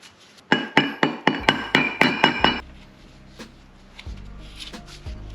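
Sharp metal-on-metal hammer blows seating a new pilot bearing into the flywheel of a Honda Civic during a D16 to B18 Integra engine swap: about nine rapid, evenly spaced loud strikes, then a quieter stretch with a couple of faint taps.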